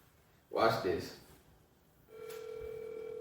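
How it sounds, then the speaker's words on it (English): A person speaks briefly, then a steady telephone ringing tone starts and holds without a break. "It's ringing."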